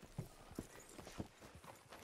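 Horse hooves in a video game clop faintly and evenly at a walking pace, a soft distant rhythm of about six hoofbeats with no other sound.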